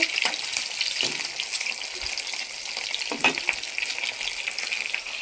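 Pieces of rohu fish fry in hot oil in a home kitchen with a steady close sizzle and crackle, occasional spatter pops and spoon scrapes, and no voices.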